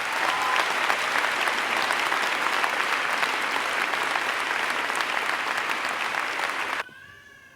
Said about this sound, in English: Can I get a round of applause for all of you?